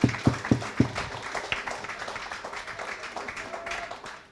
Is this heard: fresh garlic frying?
no